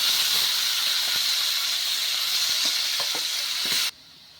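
Prawns frying in three tablespoons of oil in a pan on a stove, a steady loud sizzle and hiss with faint stirring clicks, cutting off abruptly near the end.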